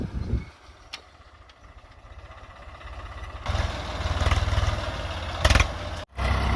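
Swaraj 744 FE 50 HP tractor engine running steadily with a low, throbbing idle, growing louder and rougher midway through, with a brief cut near the end before resuming.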